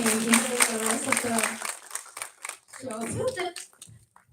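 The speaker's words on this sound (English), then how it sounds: "let's give a big applause to the panelists" Audience applause at a film festival panel event, a dense crowd clapping steadily for a couple of seconds before thinning out into scattered claps and indistinct voices.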